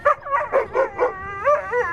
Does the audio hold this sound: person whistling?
no